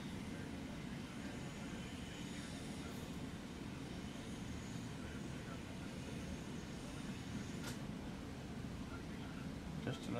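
Airplanes on the ramp at Chicago O'Hare airport, a low continuous rumble of engines with a broad airy roar, distant and steady, no talk.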